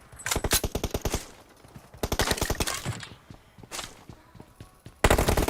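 Rapid bursts of automatic gunfire from the battle royale shooter PUBG, several loud volleys separated by brief pauses, each a tight run of sharp, evenly spaced shots, with a final burst starting abruptly at the end.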